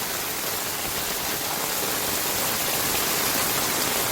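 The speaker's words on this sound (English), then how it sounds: "And this is a heavy storm right now." Heavy storm rain pours steadily in Oviedo, a dense, unbroken roar of downpour that stays loud and even throughout with no voices.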